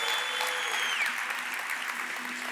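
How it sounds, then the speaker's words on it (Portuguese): A church congregation gives a burst of warm applause: steady, moderately loud clapping from a crowd that holds throughout with a faint tonal hum beneath. "A gente pode dar um forte aplauso"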